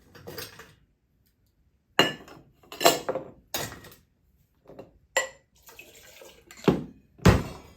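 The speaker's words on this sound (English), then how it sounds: "We're going to put a nice big ice cube in there to cool this down." A big ice cube is dropped into a metal cocktail tin while mixing a cherry whiskey smash, giving several sharp clanks and rattles separated by silent gaps, close and fairly loud.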